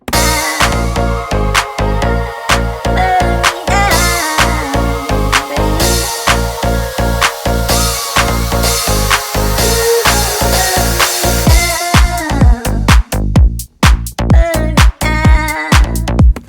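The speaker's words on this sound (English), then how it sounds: "I added this riser and then these cymbals. So it's kind of like a typical tech house drop." A loud, dense tech house drop with pounding four-on-the-floor kicks, bright sustained cymbal wash and a rising sweep, breaking into choppier stuttering hits near the end.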